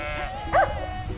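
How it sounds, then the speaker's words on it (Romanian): A goat bleats once, short and wavering, on a mountain ridge in Craiului Forest, moderately close over outdoor wind noise. "Caprele!"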